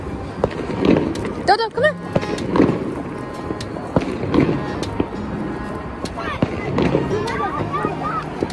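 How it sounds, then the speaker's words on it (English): Fireworks pop in a string of sharp bangs outdoors during Chinese New Year celebrations, with people talking and calling out between the blasts. "Firework time. Boom, baby."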